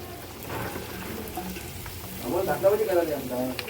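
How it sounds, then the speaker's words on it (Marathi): Onion bhaji (kanda bhaji) mixture goes into hot oil in a pot and sizzles with a steady frying hiss, growing slightly louder midway, while a voice talks over it. "तर आता आपण भाजी याच्यामध्ये टाकतो टोपामध्ये थोडा वेळ तेल तापल्यानंतर"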